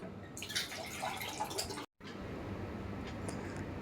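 Ground rice paste batter for jute leaf fritters being mixed by hand, with wet squelching and dripping sounds close by, a brief gap partway, then quieter mixing.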